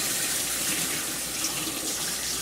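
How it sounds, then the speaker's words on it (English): Steady, loud hiss of water running from a kitchen tap as hands are rinsed during cooking, continuous and close with no talking. "Rinse off my hands here."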